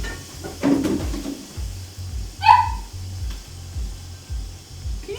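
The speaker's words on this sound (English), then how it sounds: "Can you hear this dog? He's annoying." A dog barks several times in a kitchen, sharp yips and a louder bark at moderate distance, over a low rhythmic mechanical hum.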